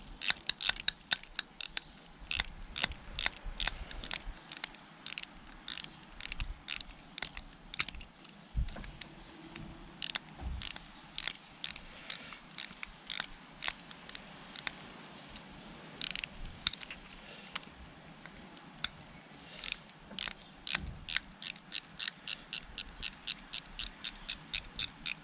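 A ratchet tool on a Suzuki GS850 chopper build clicks in long rapid bursts of sharp, close, steady pawl ticks with brief pauses between runs, no voices over it.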